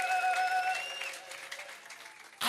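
A church congregation applauding during a preaching service, a short burst of clapping that trails off within about two seconds, followed by a sharp noise at the end.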